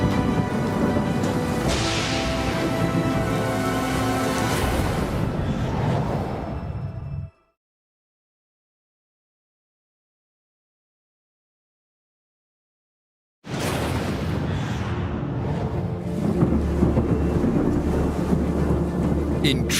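A thunderous tropical storm with wind and thunder sweeps over the construction site of the 2,000-foot Merdeka Tower in Malaysia: a dense, loud roar of rumble and wind-driven rain that cuts to total silence for about six seconds, then returns just as full.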